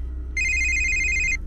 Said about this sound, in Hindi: तभी धनीराम का फोन बज उठा।